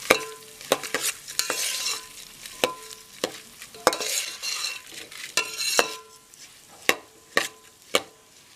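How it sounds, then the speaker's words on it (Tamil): Rice stirred and dry-roasted in ghee in a pan for Kerala aravana or sarkara payasam, giving a soft continuous sizzle broken by repeated sharp scraping and clinking strokes of the spoon against the pan. "இதில் இந்த அரிசியை போட்டு கொஞ்சம் வறுத்து எடுத்துக்கலாம்."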